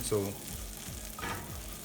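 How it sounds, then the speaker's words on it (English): Almonds toasting in melted butter in a pan, a soft steady sizzle and frying crackle with light stirring scrapes, close and unbroken. "I put a little butter, it's all melted, and I put little almonds. Toast this well"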